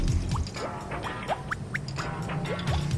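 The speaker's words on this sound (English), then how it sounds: "you can pour in the oil." Palm oil poured into a hot wok gives a continuous liquid trickle with small gurgles and bubbling drips, close and moderately loud, with no speech.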